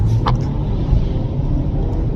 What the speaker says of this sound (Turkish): Hemen sıfırdan bir kalkışını göstereceğim.